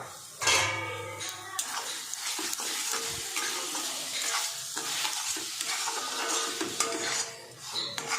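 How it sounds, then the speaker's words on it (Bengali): Sugar is stirred into a cabbage and grated coconut sandesh mixture in a pan, with a continuous sizzle and busy scraping of a spoon against the metal and a few knocks, close and fairly loud, no talk. "এবার আমি এটা পাক দিতে থাকবো যতক্ষণ পর্যন্ত না চিনিটা গলে যায়।"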